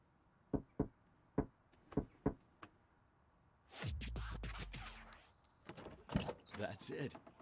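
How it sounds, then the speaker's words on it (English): A secret knocking pattern on a door in Drug Dealer Simulator: two knocks, one knock, then two more, crisp and close, followed by rustling, clattering mechanical handling noises and brief voices. "Secret knocking pattern. Two knocks followed by one and two knocks again."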